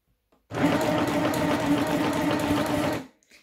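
A Stitch Happy sewing machine stitches in one continuous steady burst of rapid mechanical whirring lasting about two and a half seconds, close and clear, then stops abruptly.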